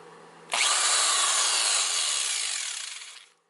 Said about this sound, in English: So here's the drill that's connected directly to the inverter.